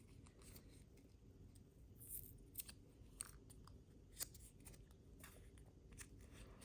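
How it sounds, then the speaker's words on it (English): Scissors snip through very thick handmade watercolor paper with a few sharp, quiet cuts spread over a soft, steady background hiss; no one speaks. "I've been cutting them like this, and then I do peel this off now."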